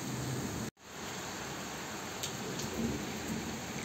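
Steady rain falling in Rome during a thunderstorm, a dense, constant hiss close by with a brief gap and faint rumbles of thunder underneath.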